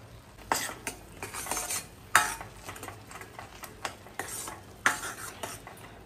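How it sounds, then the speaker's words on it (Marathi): Spice masala roasting in oil in a pan while a spoon stirs it, giving repeated scraping clinks at an irregular rhythm over a faint sizzle, close and fairly quiet. "मसाला आपल्याला चांगला तेल सुटेपर्यंत भाजून घ्यायचा आहे, तो आपण भाजूया"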